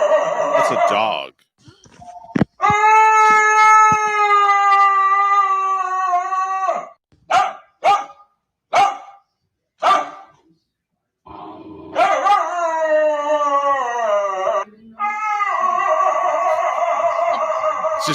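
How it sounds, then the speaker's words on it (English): A dog howls long, loud and wavering with an eerie, almost human tone, broken by short yelps and pauses, then rising into another sustained howl that slides down in pitch. "a dog that's cursed with the howl of a man trapped inside its"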